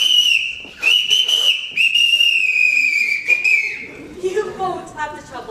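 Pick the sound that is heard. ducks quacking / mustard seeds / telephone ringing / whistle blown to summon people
whistle blown to summon people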